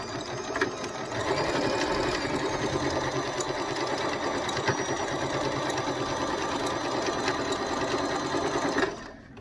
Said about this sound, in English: I'm going to go ahead and sew this now.